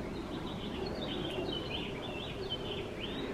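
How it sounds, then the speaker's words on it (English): Birds sing and chirp outdoors in short, repeated high calls that stay faint and distant over a steady background hum, with no one talking. "God knows we could hear them for 2 hours because they're loud today, aren't they?"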